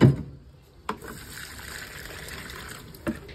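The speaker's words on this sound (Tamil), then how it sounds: "இந்த செடியில் தண்ணி ஊற்றினால ஒரு செலுன்னு பார்க்குறப்பே ஒரு சாட்டிஸ்ஃபைட் ஃபீல் வருதுங்க." Water is poured onto a potted plant in a home setting, a soft steady trickle with a couple of brief knocks along the way.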